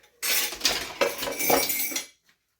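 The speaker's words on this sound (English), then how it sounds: "you put your utensils and your tools in the sink to rinse for later" Metal cutlery and kitchen tools clatter and clink as they are dropped into a kitchen sink after frying Spam, a close, busy burst of rattling lasting about two seconds before falling silent.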